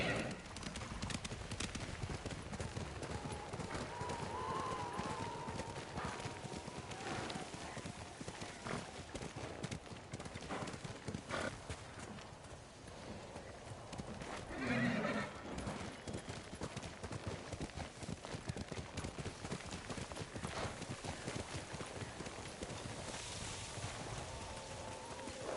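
Horse hooves clip-clopping in the samurai video game Ghost of Tsushima during worsening snowy weather, a steady rhythmic beat running throughout over wind and ambient noise, with brief spoken dialogue near the middle.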